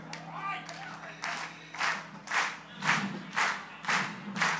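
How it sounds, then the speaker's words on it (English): Concert crowd claps along in time, sharp group claps landing on a steady beat and growing louder, while a performer's voice and a low musical hum sit underneath at the start. "follow my hand clap"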